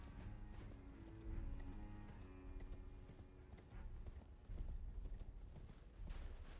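A small horse in a video game trots with rhythmic, clip-clopping hooves and a possible whinny, faint and layered with game mechanisms and creaks.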